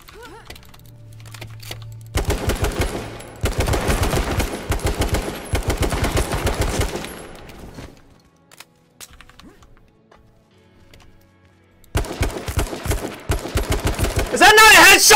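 In the H1Z1 video game, rapid automatic gunfire plays in long bursts separated by quiet gaps. The shots are loud and close, and someone talks between the bursts.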